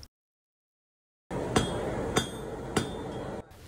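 Three sharp hammer strikes on a flat piece of bronze aluminum alloy, evenly spaced about half a second apart, ringing clearly over steady workshop noise.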